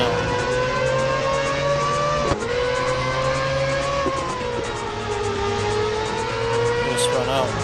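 Race car in the mobile racing game Real Racing 3 spinning out on a Grand Prix circuit: a loud, continuous engine drone with wavering pitch, a sudden jolt partway through and tire squeal near the end, while a person talks over it.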